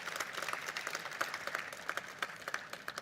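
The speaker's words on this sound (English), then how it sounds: "And I think we should give them a round of applause." Scattered applause from an audience at a 2024 budget dialogue event, a fairly quiet, uneven patter of clapping with individual claps standing out, steady for the whole stretch.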